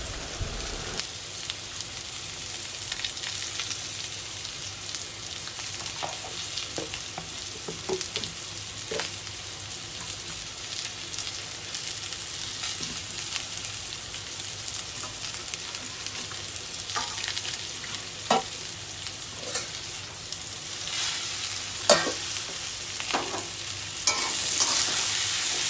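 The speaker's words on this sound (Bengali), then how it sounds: "দিয়ে ভালো করে এটাকে নেড়ে নেবো প্রথমে।" Spices, ginger-garlic paste and chopped tomato stirred in a hot frying pan for a snail (gugli) dish, with a steady sizzle and scraping spoon strokes throughout, close and fairly loud, no talking.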